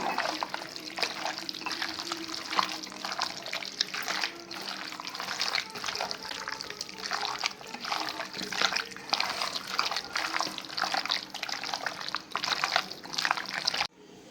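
Chicken kebab marinade mixed by hand in a bowl, with continuous wet squelching and slapping, close and fairly quiet.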